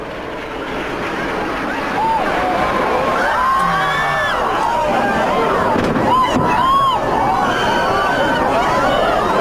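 News footage of a plane striking a World Trade Center tower, with a loud, sustained explosion rumble and surrounding commotion, crowd noise and shouting voices mixed throughout.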